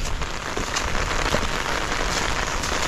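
Heavy rain pours down outdoors onto a bitter gourd plot, a loud, dense, continuous hiss of drops hitting surfaces up close, with no speech.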